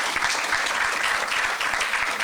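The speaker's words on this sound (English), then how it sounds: "May you please give another round of applause." Convention attendees at a youth development gathering break into a short burst of dense, sustained applause from a large hall audience, steady and unbroken throughout.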